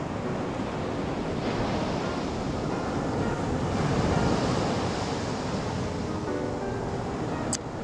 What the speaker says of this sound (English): we're here with a pretty stiff breeze today